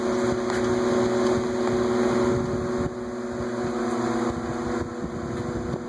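A Vornado twin window fan runs steadily nearby, a loud, constant whoosh of moving air layered with a low humming motor drone and faint tonal whine, with no speech.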